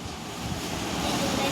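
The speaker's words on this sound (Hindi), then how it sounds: "ये देखो बाहर कितना आंधी तूफान हो रहा है" Strong storm wind blowing outside at night, with trees shaking, a steady broadband roar and rustle filling the background throughout, fairly loud and continuous.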